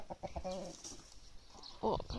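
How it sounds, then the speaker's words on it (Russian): Adler silver hens cluck softly in the morning while leaving the coop, a few short clucks and murmurs at close range, fairly quiet, with no talking. "Это наши адлерские курочки."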